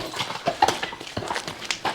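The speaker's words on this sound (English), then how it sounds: "as William puts the horses away for me" Draft horses walk on a farm, their hooves clip-clopping in a steady, close, moderately loud rhythm with no talking over it.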